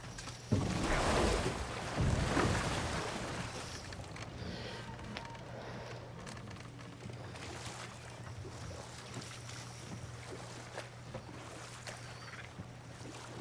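A boat glides across water in a video game, a soft washing, sloshing wake with wind-like hiss, strongest in two swells near the start and then settling into a faint, steady rush.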